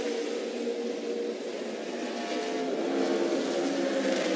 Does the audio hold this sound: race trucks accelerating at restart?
yes